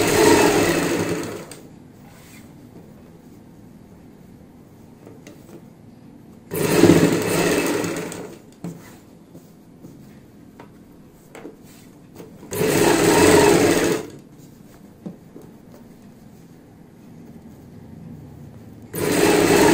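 A sewing machine stitches a ban-neck patti on a kurti in several loud, steady bursts of whirring, each a second or two long and separated by quiet pauses.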